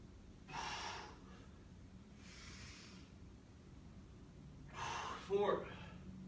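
Deep breaths drawn in during a breathing exercise, three separate airy inhalations spaced a couple of seconds apart, close and fairly quiet, the last one ending with a brief voiced sound.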